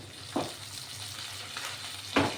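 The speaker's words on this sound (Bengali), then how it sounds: "এই মাছটা এরকমভাবে ভাজা হবে।" Small mourala fish frying in a kadai of oil: a soft, steady sizzle with two sharper crackling bursts as the fish spits, fairly quiet and close.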